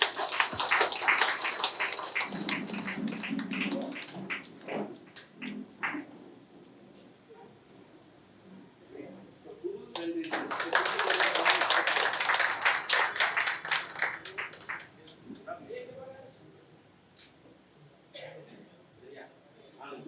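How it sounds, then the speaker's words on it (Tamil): An audience claps for a felicitation at a seminar, the applause swelling into a dense burst that lasts a few seconds before fading, with voices talking before and after it. "உங்களுடைய உற்சாகமான கைத்தட்டலோட"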